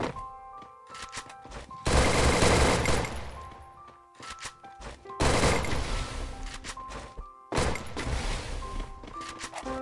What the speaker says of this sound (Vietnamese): Em bắn nó một viên á.